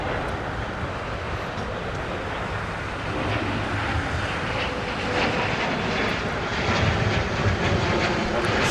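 A United Airlines jet takes off at LAX, a loud sustained engine roar that builds gradually in intensity over several seconds, heard from a distance with no talk.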